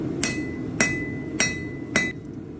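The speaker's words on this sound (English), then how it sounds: "I'm going to spend this entire heat just flattening this" A hammer strikes hot steel on an anvil to flatten a knife blank during forging, four loud ringing blows spaced evenly about half a second apart, each one clear and close with no talk.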